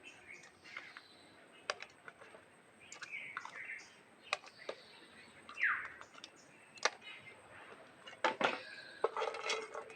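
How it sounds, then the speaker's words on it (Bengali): Large lobster prawns go one by one into a wok, making sporadic faint clinks, taps and scrapes spread through the stretch, with no voices. "এই কড়াইয়ের মধ্যে আমি চিংড়ি মাছগুলো দিয়ে দেবো একটা একটা করে।"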